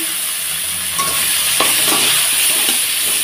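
Chopped onion drops into a pan of potatoes frying in very little oil, a loud steady sizzle with a few stirring scrapes and clicks midway.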